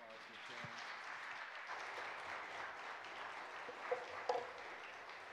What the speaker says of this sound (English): We can give them a round of applause for sharing.